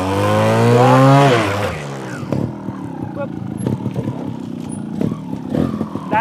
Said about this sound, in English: We're going to raise the RPM,